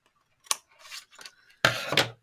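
Scissors cut through paper along a score line on a handmade Christmas coaster card, giving several crisp close snips and slides with no talk.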